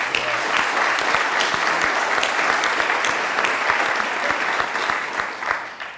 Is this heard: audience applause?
yes